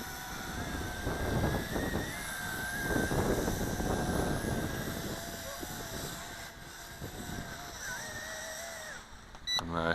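WLtoys Q202 RC aircraft carrier model running at full throttle, a thin whining motor tone that rises and falls over a rough rumble, with someone talking over it intermittently.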